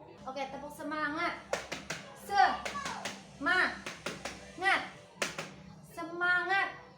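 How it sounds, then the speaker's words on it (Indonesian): Indonesian fourth-grade schoolchildren in a classroom perform a rhythmic clapping chant, bursts of hand claps alternating with the teacher's voice and children's voices chanting along, fairly close and moderately loud. "Tepuk semangat. Oke, tepuk semangat."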